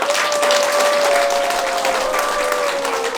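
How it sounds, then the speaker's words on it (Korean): Enthusiastic applause from a crowd at the opening ceremony of a provincial governor candidate's campaign office, loud continuous clapping with a faint tonal hum running underneath. "힘찬 박수 부탁드리겠습니다"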